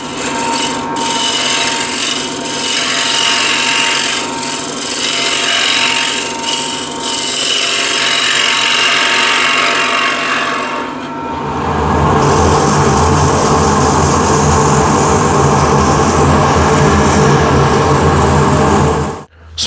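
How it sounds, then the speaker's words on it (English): A lathe spins a wooden ladle while its inside is sanded, giving a loud, steady whirring rasp that runs continuously before shifting to a rougher, louder grinding tone partway through and stopping abruptly at the end. "So that's the sanding on the inside done"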